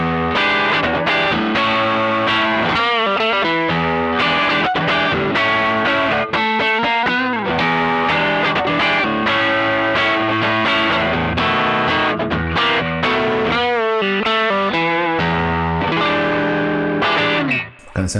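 Electric guitar through a Strymon Sunset overdrive pedal plays bluesy riffs and chords with a crunchy, Tube Screamer–like drive, loud and continuous with chorus-like shimmer and a little reverb.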